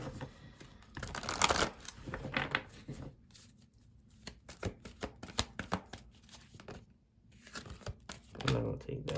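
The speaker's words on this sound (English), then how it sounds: "Let me give it a good shuffle" Tarot cards being shuffled, a rapid crisp riffling and flapping in bursts, close and clear, with a few quieter gaps between the flurries.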